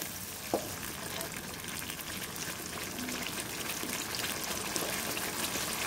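Spices tempering in hot coconut oil in a pan for a kurma, a steady, dense sizzle and crackle throughout with a brief clink near the start.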